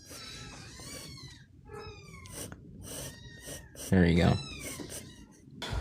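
Several young kittens cry and meow in high, wavering calls from close by, with one louder burst near the end, while a person speaks briefly.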